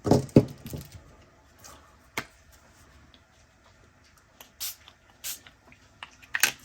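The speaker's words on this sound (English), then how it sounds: "I just spray a little." A few short, hissing spritzes from a spray bottle onto paper, quiet and close, spaced a second or so apart after some light tapping.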